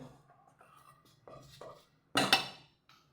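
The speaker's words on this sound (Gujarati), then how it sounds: "મિક્સ કરી લેશું ને પાણીથી બેટર બનાવી લેશું" Gram flour batter being mixed with water in a bowl, with soft scraping and stirring taps, a louder clattering burst of utensil against the bowl near the end, and quiet pauses between strokes.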